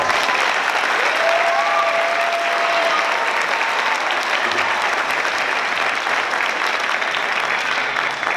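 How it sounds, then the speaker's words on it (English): A crowd of parents and guests applauds steadily at a school board of education meeting honoring students receiving certificates, a dense, even wash of clapping sustained throughout, with faint voices and a brief whistle early on. "So give these guys a big round of applause."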